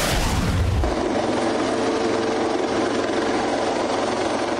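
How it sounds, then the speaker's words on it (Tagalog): A Philippine Navy AW-159 anti-submarine helicopter lands on the flight deck of the Japanese destroyer JS Takanami at sea. A loud, steady rotor and engine roar fills the whole clip, with a heavier thumping burst at the start. "Lumapag sa flight deck ng JS Takanami ng Japan ang AW-159 anti-submarine helicopter ng Philippine Navy"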